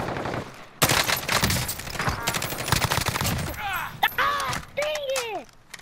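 Video game gunfire erupts in dense, loud bursts and sustained automatic volleys, with a short gap and then sharp single shots near the end, while players talk over it.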